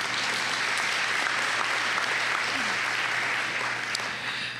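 Steady, dense applause from an audience at a college convocation ceremony, continuous and fairly loud throughout with no break or voices on top.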